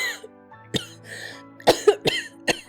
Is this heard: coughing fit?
yes